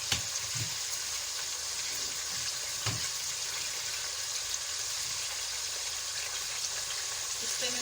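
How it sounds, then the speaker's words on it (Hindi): Peeled, cut potatoes fry in hot ghee, giving a steady, close sizzle that holds evenly throughout, with a couple of faint clinks and no voices. "मैंने 2 आलू लिए थे, छील के मैंने काट लिए, उनको मैंने उसी घी में डाला है"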